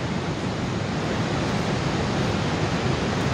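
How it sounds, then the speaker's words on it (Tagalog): Niagara Falls at night pours out a steady, dense broadband roar of rushing water, loud and unbroken throughout with no voices. "narinig nyo ang ingay ng falls ng tubig"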